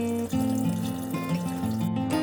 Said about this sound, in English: Then I'm just washing everything away with hot water.